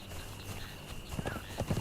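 A horse in Conan Exiles clip-clops forward, its hooves making a few quick, fairly close thuds over a steady game ambience, with a faint whinny-like tone.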